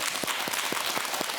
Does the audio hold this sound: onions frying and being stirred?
no